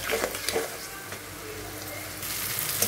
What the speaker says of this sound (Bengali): এখন মশলাটাকে আমি ভালো করে কষিয়ে নেব।